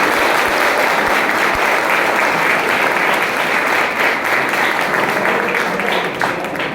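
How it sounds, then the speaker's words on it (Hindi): Sustained applause from an audience for first- and second-year students at a college function, steady and dense throughout, with no speech over it. "जोरदार ताली चाहता हूं"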